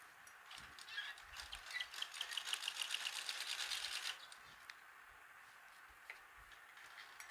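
A sewing machine stitches fabric for a box-shaped roti cover in a quick, fine ticking run that lasts about three seconds and then stops, followed by a few faint clicks in a quiet room.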